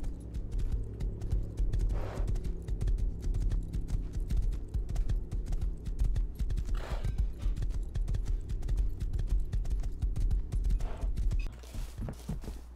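Rapid rhythmic clip-clop of galloping horse hooves in the video game Rust, loud and continuous over a low musical drone, with brief gaps near the end.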